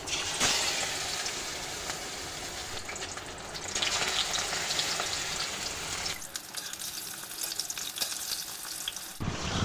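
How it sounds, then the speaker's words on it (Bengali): Egg-battered katla fish pieces fry in hot oil in a kadai with a continuous crackling sizzle that briefly softens midway, heard up close with no talking. "এবার মাছগুলো চুবিয়ে উল্টে পাল্টে তারপরে কড়াইতে দিয়ে দিচ্ছি।"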